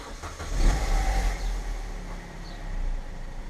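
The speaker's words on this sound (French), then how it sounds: "Et voilà, il n'y a aucun problème, la voiture est démarrée." An Opel Corsa D engine cranks and catches, rising into a low, mid-level idle that swells briefly and then settles into a steady rumble, with no talking.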